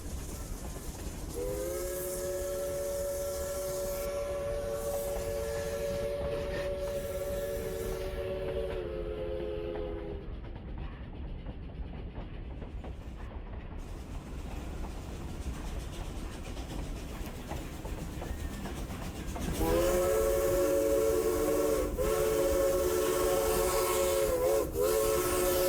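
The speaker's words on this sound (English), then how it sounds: "I just love the sound of that horn." The horn of a Durango narrow gauge steam train gives two long, steady, chord-like blasts separated by a gap, over the continuous rumble and hiss of the moving train.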